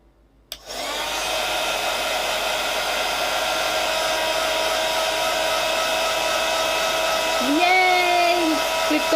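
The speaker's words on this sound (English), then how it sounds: "So let me just dry both of these off." A hair dryer switches on with a click and blows steadily and loudly at close range to dry painted papercraft backgrounds, its whirring tone wavering slightly near the end.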